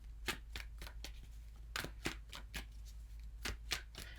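Oracle cards being shuffled by hand, a run of crisp riffling bursts at an uneven rhythm, close and fairly quiet, with no talking.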